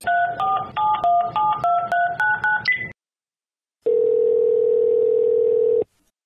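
Telephone keypad dialing for a phone-in call: a quick run of about a dozen loud, clean touch-tone beeps, a short pause, then a long, steady ringing tone that stops abruptly.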